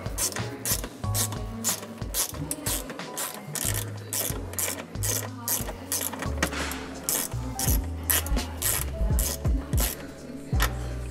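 A ratchet wrench tightens the mounting of a second battery kit in an old Gen 1 car, giving rapid, loud, repeated clicking strokes in steady bursts, close up with no talking.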